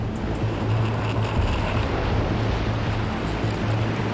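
Large 10 to 12 foot ocean surf at Bondi Beach rolls and crashes in a steady, loud roar with heavy wind buffeting, continuous throughout with no voices.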